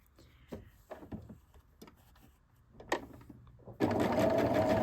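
A sewing machine chain-piecing quilt pieces: soft scattered clicks and handling taps at first, then the motor bursts into a loud, steady, continuous run of stitching near the end.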